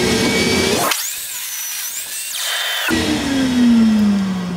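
A table saw spins up and bites through hardwood for a bottle opener, dust extraction running, a loud rising whine holding steady during the cut, then winding down as the blade slows.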